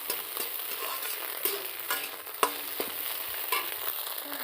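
Scrambled egg bhujia fries in oil in a pan, a soft, quiet sizzle broken by scattered sharp clinks and scrapes from stirring, with no talk.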